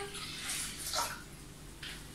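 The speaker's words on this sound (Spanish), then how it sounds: "Le vamos a poner un litro de agua." A litre of water poured into a Thermomix bowl, a soft, fairly quiet splashing pour with a couple of brief swells in intensity, no talking.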